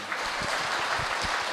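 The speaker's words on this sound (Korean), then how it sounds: "신부님을 큰 박수로 환영해 주시기 바랍니다" Audience applause welcoming a priest to a Catholic parish marriage-mentoring lecture, a steady wash of many hands clapping indoors at moderate level, with no voices over it.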